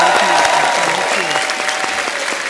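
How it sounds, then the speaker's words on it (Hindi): Studio audience on a Hindi comedy talk show breaks into loud, sustained applause, a dense wash of clapping close up that carries steadily through to the end. "मैं बैठने से पहले चाहूंगा आनंद मिलन जी के लिए जोरदार ताली हो जाए"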